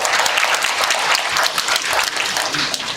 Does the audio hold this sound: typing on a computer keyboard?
no